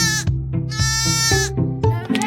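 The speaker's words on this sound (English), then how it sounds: "Sheep say baa, not moo." A sheep gives several loud, close bleats in a row, each a wavering nasal baa, one following another with almost no gap.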